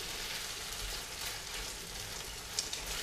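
A tofu scramble sizzles in oil in a pan, a steady, even hiss with a couple of faint clicks near the end.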